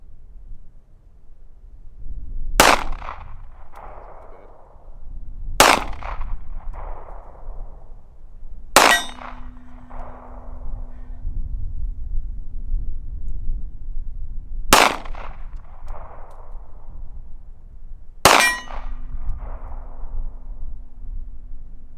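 Five loud, spaced pistol shots of Freedom Munitions X-DEF .380 ACP self-defense ammunition at 25 yards, each crack followed by a short echo and a faint metallic ring from the target, with quiet outdoor air between them.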